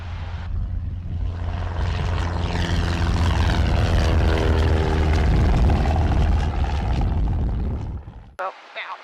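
A small propeller airplane roars loudly during takeoff and climb, its engine drone building steadily with a rising pitch from the cockpit, then cutting away abruptly near the end.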